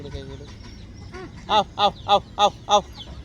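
Multicoloured pure desi country chickens cluck nearby, a run of five evenly spaced loud calls after softer, scattered fowl sounds and faint background voices.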